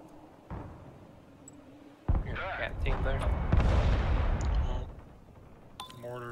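Mortar fire in the Broken Arrow war game: heavy booming blasts and rumbling impacts that build from about two seconds and roll on loudly for several seconds, with a voice talking over the battle.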